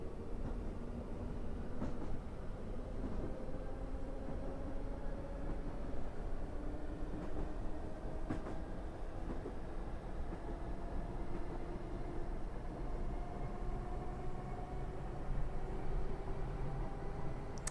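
A train in Train Simulator 2022 on the East Coast Main Line between London and Peterborough picks up speed, with a steady loud rumble and rising, gliding tones, plus faint clicks from the rails.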